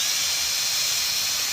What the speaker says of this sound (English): it kind of just naturally pulls the drill forward